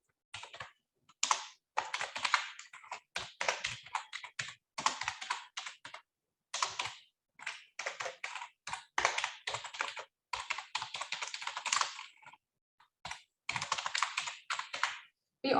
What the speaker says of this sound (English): Oh, I should type this correctly.